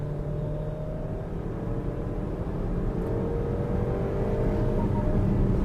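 A Maruti Victoris car engine holds a steady, sustained rev near its upper limit, a continuous droning whir with rumble that rises slightly toward the end, heard from inside the car with no talk.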